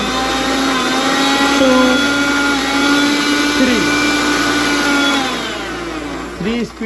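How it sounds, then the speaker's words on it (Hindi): A stainless steel mixer grinder with a three-speed dial runs with a loud, steady motor whine whose pitch shifts as the speed changes, while a person talks briefly over it. "काफ़ी प्यारा, काफ़ी अच्छा मिक्सर है ये"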